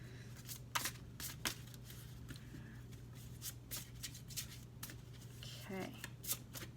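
Tarot cards are shuffled by hand at close range in repeated crisp, riffling bursts of uneven length, with a low steady hum in the background.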